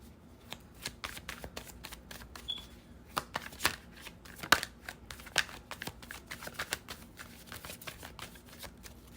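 Tarot cards shuffled by hand in quick repeated flicks and snaps, close and crisp, with no talking.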